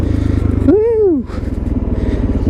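A Suzuki DRZ supermoto motorcycle spins donuts, its low engine drone churning steadily up close while a rider lets out a rising-and-falling whoop over it.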